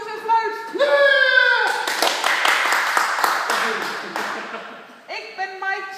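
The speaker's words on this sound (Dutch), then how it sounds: "zo het publiek klapt, joeg en fluit" An audience at a live product presentation applauds in a dense, sustained burst of clapping, with cheering voices and whistles rising at the start and again as the applause fades near the end.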